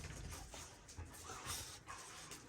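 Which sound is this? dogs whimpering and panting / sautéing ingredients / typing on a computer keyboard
dogs whimpering and panting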